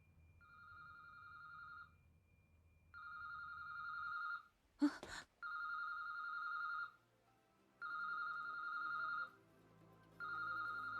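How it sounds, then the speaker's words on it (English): An odd electronic telephone ring from an anime episode: repeated two-tone warbling bursts, each about two seconds long with short gaps, fairly clear, broken once by a brief sharp clatter and then continuing alone with no talk. "That's a weird phone."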